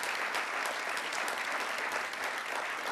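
An audience at the Zlati kamen 2012 municipal award ceremony gives steady, dense applause for three seconds, an even wash of many clapping hands at moderate distance with no voices over it.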